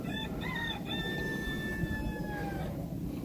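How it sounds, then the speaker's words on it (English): Roosters crow outdoors, a few long drawn-out calls rising and falling in turn over a steady background hum, fairly near and clear with no talking. "We've got roosters crowing."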